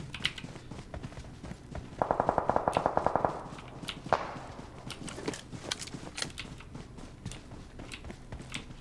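Automatic gunfire in the mobile battle royale game PUBG Mobile: a rapid burst of about a dozen evenly spaced shots, then a single louder report and scattered distant shots, all under steady game ambience.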